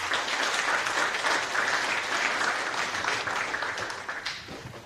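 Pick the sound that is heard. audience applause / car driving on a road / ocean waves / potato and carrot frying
audience applause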